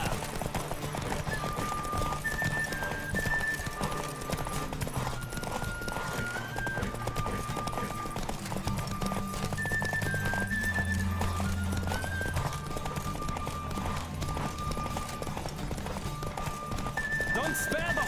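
Horse in The Witcher 3: Wild Hunt galloping with steady, rapid hoofbeats and occasional neighs. Music plays throughout and voices talk over it.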